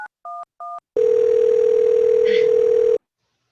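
A phone simulator app dials 911: three short keypad tones, then a loud steady dial tone holding for about two seconds before it stops, with no voices.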